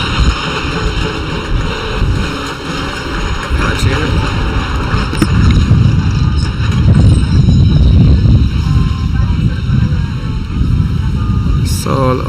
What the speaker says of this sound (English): So it's a lot of wind here.